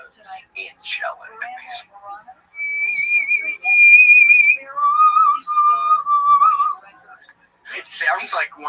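A person whistles long, sustained, eerie notes that slide between pitches, with soft breathy voices and noises before and after.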